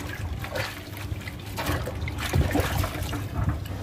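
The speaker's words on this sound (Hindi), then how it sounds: "नॉर्मल पानी में इसे धो दिया है," Plain water splashes and trickles as an etched brass plate is rinsed, close and fairly loud, with uneven sloshing bursts and no speech.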